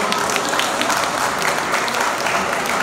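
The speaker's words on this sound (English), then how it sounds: "deserves a huge round of applause." An audience applauds at the grand finale event of the Knights of the Raj exhibition in Birmingham. The clapping is loud, dense and continuous from start to finish, with many hands blending into a steady wash.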